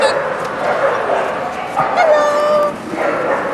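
Spinone Italiano dog at a dog show yips and whimpers in short, rising cries, close by and mixed with people chatting nearby.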